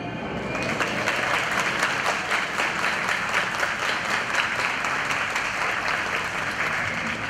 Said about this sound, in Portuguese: Portanto, o aplauso é para vocês também, gente